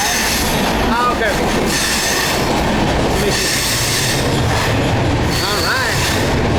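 Onboard rumble of a passenger train bound for Bangalore via Pune, with steady rolling noise, clatter of the carriages and brief wheel squeals, loud and continuous throughout.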